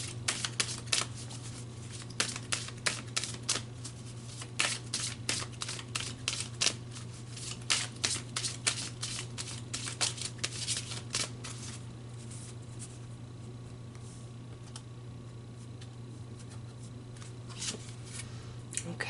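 Tarot cards being shuffled, a steady run of quick papery riffles and flicks over a low constant hum, fairly faint and close with no talking.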